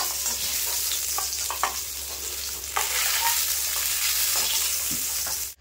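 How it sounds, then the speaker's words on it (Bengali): Pointed gourd (potol) frying in a kadai: a continuous bright sizzle of hot oil close up, broken by occasional scraping and stirring clicks, then cutting off abruptly at the end. "পটলগুলো কিন্তু খুব সুন্দর করে ভেজে নিয়েছি, এবার তুলে নেব"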